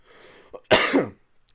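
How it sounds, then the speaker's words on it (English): A single sharp cough bursts out close to the microphone after a faint breath, then quiet. "that's just me coughing"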